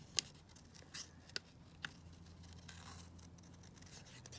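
Scissors cutting around a shape in paper for a scrappy journal, a few crisp close snips with quiet gaps between them.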